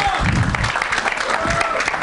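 Audience applause at a film event for Hate Story 3, steady clapping from a crowd mixed with low murmuring voices, fairly loud and continuous throughout.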